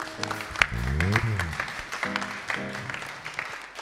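An audience at a Christian worship broadcast applauds and cheers, a burst of clapping mixed with shouts and a voice over it.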